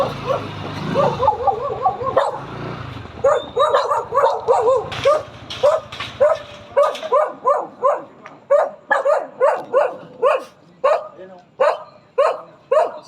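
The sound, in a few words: dogs barking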